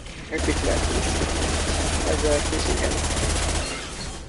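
Sustained rapid gunfire from a Mass Effect 2 firefight, a dense continuous rattle over a low rumble lasting nearly the whole moment before easing off at the end.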